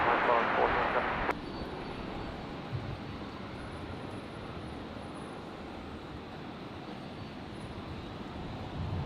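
A Virgin airliner on final approach at Brisbane airport gives a steady, broad, distant roar that holds evenly throughout. A sharp click sounds near the start, and voices can be heard over it.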